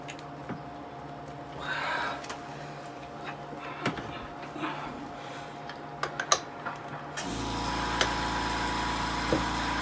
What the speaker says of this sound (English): Air compressor fires up to mock me for not using the impact gun.